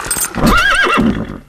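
A horse whinnies in one loud, close, rising-and-falling neigh lasting about a second, inside a horse stable where an agitated wild horse is being calmed.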